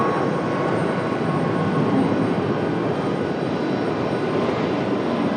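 Airliner taking off from runway 23 right at Raleigh-Durham International Airport in the evening, heard as a steady, loud, broadband engine roar from a distance, unbroken for the whole stretch with no voices.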